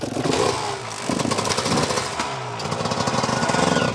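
A motorcycle engine runs steadily and loudly throughout, a close, rough mechanical drone during an open-air theatre play in Friesland, with no talking.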